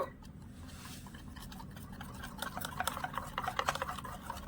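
A spoon stirs food colouring into boondi batter in a bowl, giving quiet, uneven scraping and light clicking strokes that grow a little busier toward the end.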